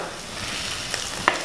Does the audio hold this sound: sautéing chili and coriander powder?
yes